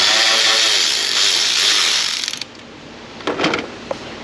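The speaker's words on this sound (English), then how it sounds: "I can sneak this socket in down and get to the bolt on that purge cylinder, the purge valve" A socket ratchet turning the bolt on the purge valve of a Chevrolet Silverado 5.3 V8 gives a loud, close, dense ratcheting whir that cuts out, followed by a few brief clicks and a short burst of clacking.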